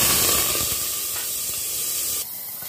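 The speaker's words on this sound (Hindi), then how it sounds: "तेल गरम हो गया है, अब डाल देते हैं आलू।" Raw potatoes dropped into hot cooking oil in a home kitchen, giving a loud, steady sizzling hiss that runs throughout and drops noticeably quieter near the end.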